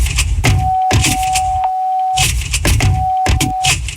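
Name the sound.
car seatbelt warning beep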